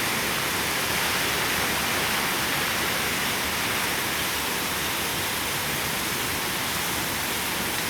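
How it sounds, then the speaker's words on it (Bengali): Heavy storm rain in Mangalore pours down in a dense, unbroken roar, steady and loud throughout, with no voices. "এখানে বিশাল বৃষ্টি হয়, বৃষ্টির কোনো ব্রেক নেই, এখনও বৃষ্টি পড়ছে"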